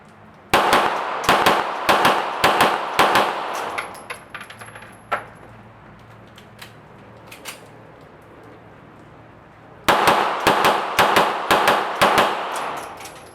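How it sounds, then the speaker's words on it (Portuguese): Two bursts of rapid pistol shots firing CBC PolyMatch ammunition, sharp cracks fired in quick strings with a lull between them, loud and close. "vou colocar o videozinho agora aí para você ver os disparos"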